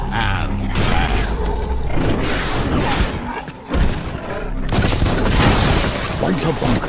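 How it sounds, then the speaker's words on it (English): In the Biomutant video game, a ram bangs heavily against a door, giving loud booming thuds and creaking mechanical clatter under steady noisy game ambience, with a brief lull partway through. "Bunch of bonkers busy ram-banging the door."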